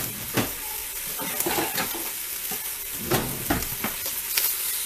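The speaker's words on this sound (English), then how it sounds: "about 5 minutes into browning my meat, this is the color I have now" Meat browns in a hot pan with a steady, close sizzle, broken by repeated scraping and stirring strokes as it is moved around.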